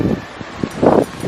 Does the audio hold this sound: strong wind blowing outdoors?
yes